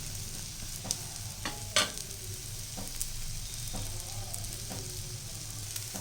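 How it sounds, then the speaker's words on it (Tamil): An omelette frying in a pan sizzles steadily and quietly, with occasional light clinks and scrapes of a utensil breaking the even hiss; no one speaks. "இப்போ இந்த ஆம்லேட்டு நல்லா கொஞ்சம் வேகட்டும்"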